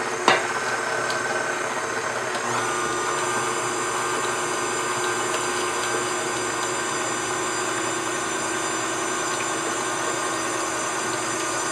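An electric mixer beats butter, sugar and eggs into a strawberry cake batter, giving a steady, fairly loud, unbroken whirring drone that holds the same level from start to finish.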